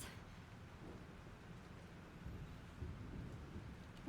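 Steady rain pours through a thunderstorm in the video game Life is Strange, a dense low roar of falling water with rumbling thunder beneath, loud and continuous from start to finish with no voices.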